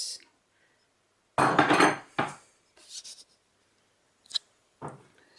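A spoon folds nuts into gluten-free brownie batter in a bowl, with a few separated scraping strokes and utensil knocks against the bowl, close and intermittent among quiet gaps.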